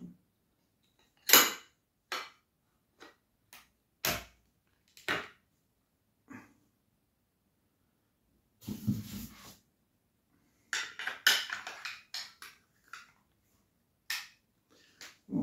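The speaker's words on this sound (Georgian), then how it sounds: "მოდი ავაწყოთ თოფი" Yildiz SPZ M-20 20-gauge over-under shotgun being assembled, a series of sharp metallic clicks and snaps spaced irregularly, with a few sliding metal scrapes and a cluster of quick clacks near the end, close and isolated in quiet.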